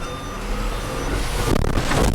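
A Mercedes-Benz Axor Euro 4 truck accelerating off-road, its low diesel engine rumble rising in a brief, close burst with a faint tonal whine on top.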